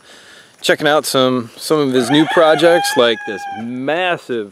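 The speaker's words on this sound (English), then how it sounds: "Girls love the chickens." Chickens cluck and a rooster crows at a homestead on a holiday weekend, the bird calls mixed under close, continuous talking.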